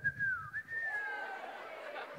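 A person whistles an imitation of a bird call, a clear gliding tone that dips and rises over about a second, close and loud, followed by a low murmur of voices.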